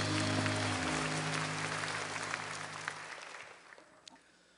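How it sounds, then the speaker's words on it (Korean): A church congregation applauds in a large hall, a dense, loud wash of clapping that gradually fades out over a few seconds, with a sustained low musical tone beneath it. "계속하신 예수님께 감사의 박수를 드립니다."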